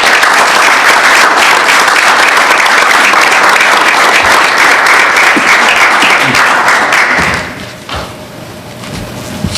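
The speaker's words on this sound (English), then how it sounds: "I would like to give them just a round of applause." Applause at a city council meeting: a loud, dense round of clapping from the room that holds steady for several seconds, then drops off abruptly, leaving a few scattered claps and thuds.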